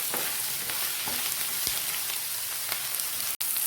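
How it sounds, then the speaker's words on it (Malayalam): Chopped tomatoes and spice paste sauté for a karimeen (pearl spot fish) dish with a steady, close sizzle and frying crackle, broken by a few faint taps of stirring. "2 ടൊമാറ്റോ അരിഞ്ഞതും കൂടെ ഇട്ട് നല്ലപോലെ ഈ അരപ്പെല്ലാം കൂടി ഒന്ന് വഴറ്റിയെടുക്കാം"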